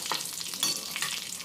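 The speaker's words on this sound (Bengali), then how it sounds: "এবার কড়াইয়ের তেলের মধ্যে আমি দিয়ে দিলাম গোটা জিরে, অল্প করে কালো জিরে" Whole cumin, a pinch of black cumin and two dry red chillies hit hot oil in a kadai, giving a steady close crackle and sizzle with light stirring and no talk.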